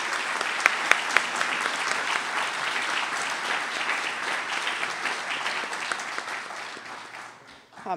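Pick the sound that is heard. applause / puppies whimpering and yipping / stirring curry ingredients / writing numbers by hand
applause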